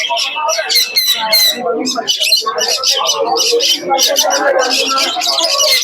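Pigeons and other birds at the crowded Krishnagar bird market in Nadia, with dense, overlapping chirps, squawks and flutters close by, under continuous crowd chatter and voices.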